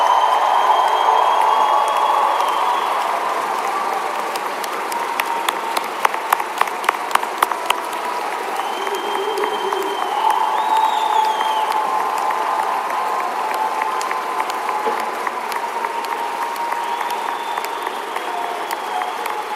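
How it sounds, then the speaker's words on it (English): A commencement audience applauds the graduating class of 2019, a broad wash of clapping with some cheering that holds steady for nearly twenty seconds, with a few sharper nearby claps standing out. "Let's give them a round of applause."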